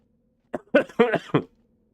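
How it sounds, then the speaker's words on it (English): A short burst of coughing, a few quick hoarse coughs close to the mic, then quiet. "still got a bit of a cough"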